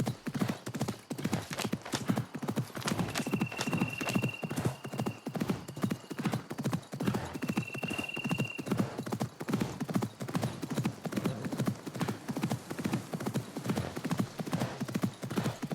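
Horse hooves clip-clop steadily at a walking pace in the video game Assassin's Creed Mirage, a continuous even rhythm heard up close against a soft ambient background.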